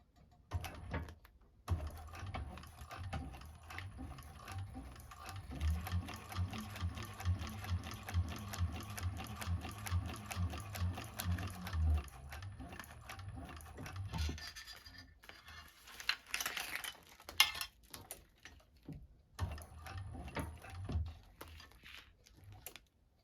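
A 1341 cylinder-arm sewing machine stitches clear vinyl for a bag, its rapid needle clatter running in steady bursts with pauses between seams, loud and close with no talking.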